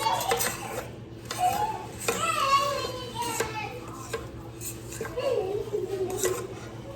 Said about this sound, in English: I'm going to scrape the sides so we can make sure everything gets nice and mixed